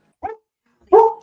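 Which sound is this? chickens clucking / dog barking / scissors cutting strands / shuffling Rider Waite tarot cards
dog barking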